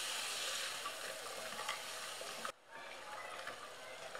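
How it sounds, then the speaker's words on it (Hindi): Vegetables with turmeric and red chili powder are stirred in a hot pan for veg pulao, giving a steady, close sizzle with light scraping that drops suddenly quieter partway through. "1/2 टेबल स्पून के करीब रेड चिली पाउडर और हल्दी पाउडर को हम अच्छे से मिक्स कर लेंगे।"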